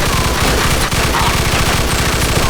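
Gunfire from a machine gun in the Mafia 2 video game, a loud continuous rapid burst of shots with a dense rattling rhythm, heard alone without talk.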